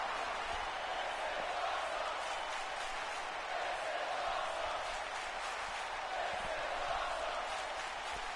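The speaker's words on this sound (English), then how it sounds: "And the crowd is chanting, this is awesome" A wrestling event crowd keeps up a steady, massed roar of chanting voices that fills the whole stretch evenly, with no clear break or single voice standing out.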